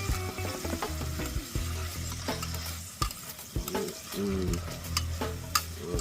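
Callaloo and fried dumplings for a Jamaican breakfast sizzle loudly in hot oil while a utensil stirs and scrapes the pan in uneven bursts, close and busy with no talking.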